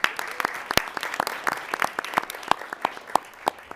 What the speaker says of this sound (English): we still would like to give her a round of applause